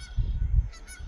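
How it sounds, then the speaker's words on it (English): Geese honk: a short, close burst of several low, nasal calls in quick succession, heard alone. "Geese."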